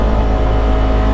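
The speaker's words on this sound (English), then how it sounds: "I love the engine, even if it's really, really noisy in this cab." Loud, steady engine drone from a 2024 Polaris RZR XP 1000 Ultimate side-by-side, heard close up from inside the cab as a dense, unbroken mechanical roar.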